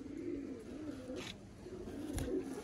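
Breeder pigeons coo in low, rolling murmurs that repeat steadily through the stretch, close by and moderately loud, with a couple of brief rustles and a soft thump mixed in.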